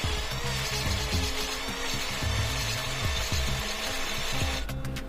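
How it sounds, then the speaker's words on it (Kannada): A kitchen mixer grinder whirs steadily as it blends cucumber with sugar and lemon juice, a loud continuous motor drone with a rhythmic churning pulse and a brief change near the end. "ಹಾಗೆ ಇದನ್ನೀಗ ಗ್ರೈಂಡ್ ಮಾಡಿಕೊಳ್ಳುವ"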